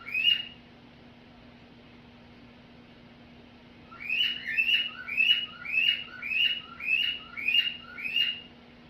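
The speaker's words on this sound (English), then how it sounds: "my bird." A pet bird chirps in a quick run of about nine bright, evenly spaced calls after a single early chirp and a few seconds of quiet, close to the microphone over a steady low hum.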